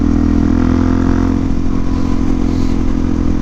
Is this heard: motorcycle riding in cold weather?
yes